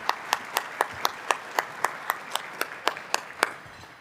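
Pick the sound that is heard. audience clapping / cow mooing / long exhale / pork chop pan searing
audience clapping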